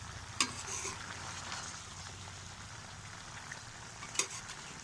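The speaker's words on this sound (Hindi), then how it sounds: "सब्ज़ मिर्च जो हमने बारीक चॉप कर ली थी, इसे भी हम साथ ही ऐड कर देंगे प्याज के। इसे अच्छे तरीके से हिलाते जाएंगे।" Chopped green chilies and onions stirred in a pan, a soft, low sizzle running throughout with two sharp spoon clinks against the metal, one early and one near the end, quiet and close.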